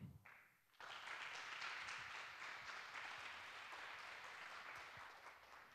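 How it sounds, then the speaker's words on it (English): A conference audience at a hacker camp applauds a speaker with a sudden swell of steady clapping that fills the room and holds evenly for several seconds, sounding somewhat distant. "Please give a big applause for him"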